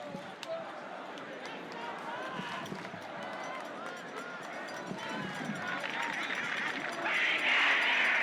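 Football crowd at a St. Pius versus Rockhurst high school game making noise for the defense, a broad steady roar and chatter that swells louder toward the end, with a commentator's voice over it.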